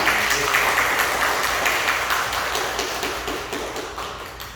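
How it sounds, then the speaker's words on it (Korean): A church congregation at a Sunday service gives warm applause to welcome a newcomer, steady many-handed clapping that stays dense and fairly close, slowly tapering off in volume with no voices. "여러분들이 따뜻하게 박수를 일단 많이 해주시기"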